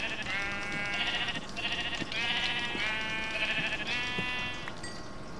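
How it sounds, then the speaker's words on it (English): Sheep in a modded Minecraft game bleat repeatedly, several drawn-out wavering calls overlapping one after another, fairly loud and close, with no talk over them. "Oh, there we go. Sheep."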